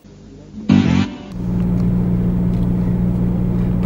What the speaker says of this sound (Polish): No zobaczcie, co jedzie Tatra.